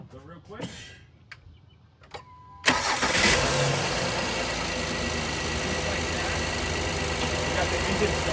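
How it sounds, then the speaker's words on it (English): A car engine cranks and catches at about 2.7 seconds, then settles into a steady, loud idle for the rest of the clip, following a few quieter clicks and handling sounds beforehand. "now what we have to do is we start the engine"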